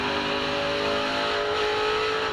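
A NASCAR Truck Series engine at Gateway Motorsports Park holds a loud, steady high-pitched roar as the driver pedals the throttle through a turn, the pitch dipping slightly midway.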